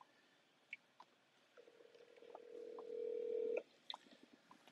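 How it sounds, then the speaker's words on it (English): An outgoing phone call rings, giving one faint, steady ringback tone lasting about two seconds, with a few soft clicks before and after it. "You're going to hear the phone ring."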